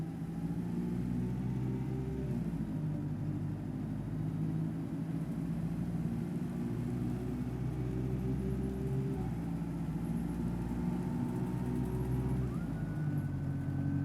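A steady London Citybus engine drones throughout in OMSI 2, with a thin, high whistling whine riding on top and briefly rising in pitch near the end.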